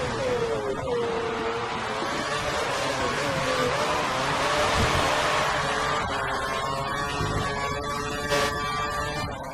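A Formula 1 car's engine in the F1 2013 racing game holds steady near its rev limiter, a loud continuous high-pitched drone with slight wavering pitch and a brief sharp stutter near the end.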